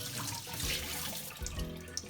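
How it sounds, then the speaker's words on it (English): Running water splashes steadily over rice being rinsed in a pot for Japanese-style cooking, a close, continuous wash with a brief surge partway through and no voices. "What you want to do is you want to rinse it again with water, and then one more time."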